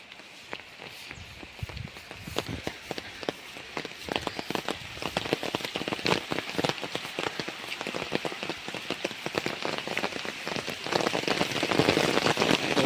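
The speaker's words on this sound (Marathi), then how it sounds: "पाऊस येलो बघा" Steady rain patters on a surface, dense crackling drops that grow heavier toward the end, close and continuous, on open grazing land in Konkan.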